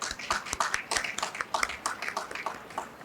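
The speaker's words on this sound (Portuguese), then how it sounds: "Uma salva de palmas, por favor." An audience at an agribusiness conference panel claps steadily, the many overlapping hand claps forming a dense, moderately loud round of applause that carries on throughout.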